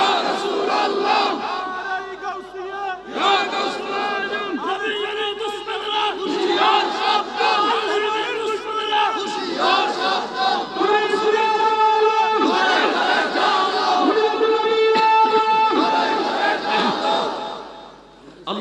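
A large gathering at a Bengali religious sermon chants the takbir in loud unison, repeated rhythmic group shouts over about eighteen seconds, with a lead voice calling and the crowd answering.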